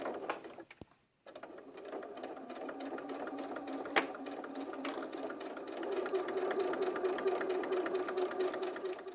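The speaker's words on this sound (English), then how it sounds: "you're going to sew along the entire bottom edge of the main panels of the bag" Sewing machine stitching along the bottom edge of fabric bag panels, a steady close mechanical whir with rapid needle ticking after a brief pause, continuing evenly and slightly louder toward the end.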